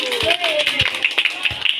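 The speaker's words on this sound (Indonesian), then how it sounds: "Tepuk tangan untuk kelompok 1." Students in a class making pounded ecoprint batik clap for the winning group, with a few scattered, separate claps heard close by while voices carry over them.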